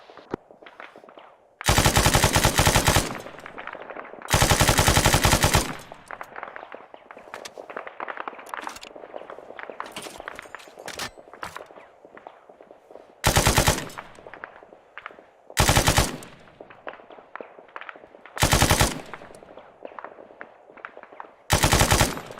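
Bursts of automatic gunfire in ArmA 3, several loud rapid volleys separated by pauses, two longer strings early on and shorter sharp bursts later, with quieter background battle noise between.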